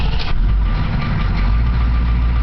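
A 6.2 diesel engine idles in neutral, a steady, loud, low-pitched rumble with an even chugging texture, close up and uninterrupted, with no speech.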